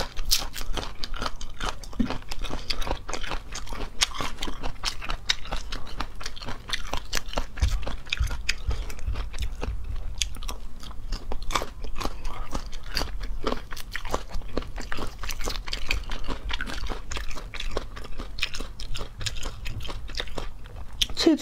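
Crunchy pork ribs being bitten and chewed up close, a steady stream of crisp crunches and wet mastication continuing for the whole stretch, loud and close-miked in a mukbang-style eating session.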